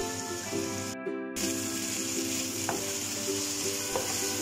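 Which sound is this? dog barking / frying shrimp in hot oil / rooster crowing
frying shrimp in hot oil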